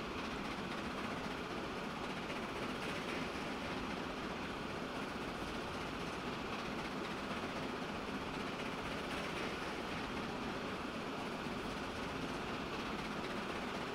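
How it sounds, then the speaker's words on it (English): Steady train running in the Transport Fever 2 simulation game, a continuous rail rumble with rolling wagon noise holding an even level throughout, no voices. "this train might actually be able to get up to the maximum speed of the wagons"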